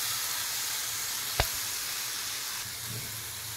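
Chicken frying with cumin and spices in a pan, a steady soft sizzle and hiss with a single sharp clack of a utensil partway through, close and alone.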